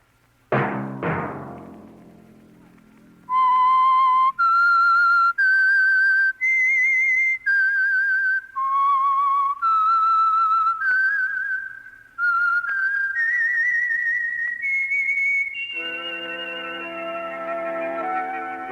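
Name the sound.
whistled theme of The Whistler radio program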